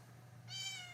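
A cat's meow, rising and drawn out, starts halfway through after a quiet stretch with a low steady hum underneath.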